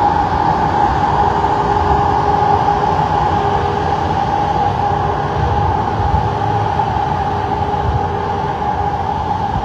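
Steady, loud roar of city road traffic beside a street in New York City, a continuous dense rumble with a sustained mid-range hum and no clear individual events.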